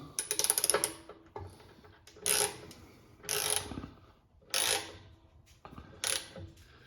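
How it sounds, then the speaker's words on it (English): Tightening hardware while tensioning the belt on an Ingersoll Rand reciprocating compressor produces close, bright metallic ratcheting in five separate bursts, each lasting about half a second to a second, with short pauses between them and no voices. "With the tension set, go ahead and start to tighten."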